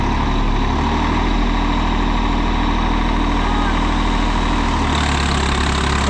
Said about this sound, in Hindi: ट्रैक्टर स्टार्ट हो गया भाई